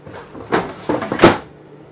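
A plastic doggy door cover being unlatched and pulled free, giving a few close, sharp clacks and scrapes, the loudest near the end, with no one talking.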